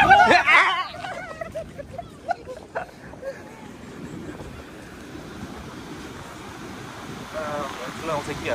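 Surf breaking along a Korean coastline near Sinduri beach, a steady wash of waves with wind buffeting the microphone; a voice speaks briefly at the start over the rolling water.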